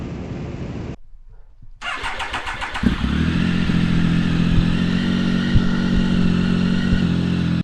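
A motorcycle engine cranks and fires up after a short pause, then settles into a loud, steady idle close by.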